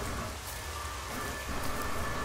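Steady rain falls in a video game, a dense, even hiss of drops that holds at a constant moderate level throughout with no voices.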